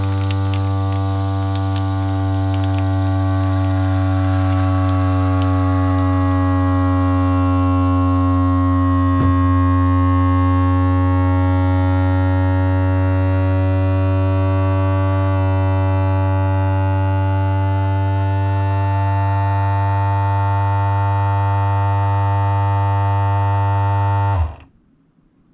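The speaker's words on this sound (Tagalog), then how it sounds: "And then, vacuum seal." A countertop vacuum sealer runs with a loud, steady motor hum for about twenty-four seconds, then cuts off abruptly into near silence, with no talking.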